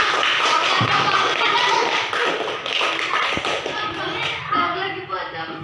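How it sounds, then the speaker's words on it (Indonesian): Elementary school pupils in a classroom clap their hands in a busy, uneven burst of taps and thumps lasting several seconds, with chatter and shuffling mixed in as the clapping trails off. "Oke, beri tepuk tangan."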